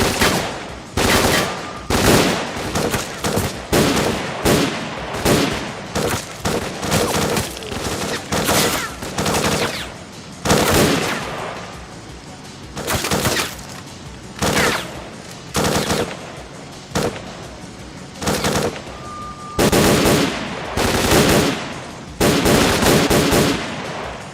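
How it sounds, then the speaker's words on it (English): Sustained automatic gunfire in the S.T.A.L.K.E.R.: Clear Sky shooter game, loud rapid bursts and fusillades from several weapons repeating throughout with brief gaps, no talk. "They're already shooting, even though I can't see them and they can't see me."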